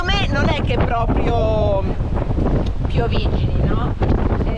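Strong wind buffeting the microphone on a sailboat at sea in light rain, with people talking loudly over the gusts and water noise.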